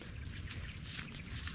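Continuous rushing water with a steady, broad hiss, like a river flowing nearby, without pauses or voices.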